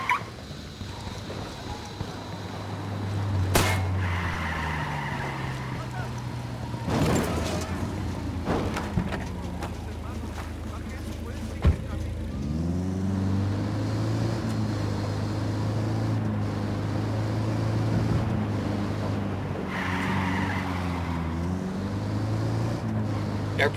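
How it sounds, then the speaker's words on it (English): A rebel vehicle is driven in the game Ghost Recon Wildlands, its engine droning steadily and rising and falling in pitch over nearly half a minute, with a few sharp knocks and bumps along the way. "I requested a vehicle from the rebels."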